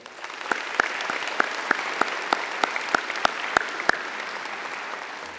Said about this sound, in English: Let's give a big round of applause for them as well.